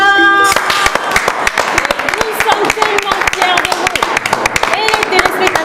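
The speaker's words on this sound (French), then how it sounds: "Je veux vous applaudir" Scattered, uneven hand claps from a small group ring out sharply for several seconds, mixed with voices and a brief tonal sound at the very start.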